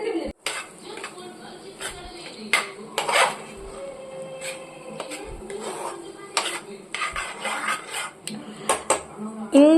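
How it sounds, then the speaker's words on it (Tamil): Two eggs cracked into a pan and stirred, with spoon and pan clatter, scraping and sharp clinks repeating throughout, close and moderately loud. "இப்போ வந்து நான் 2 முட்டையை உடச்சி ஊற்றிட்டு நல்லா கிண்டிக்கணும்"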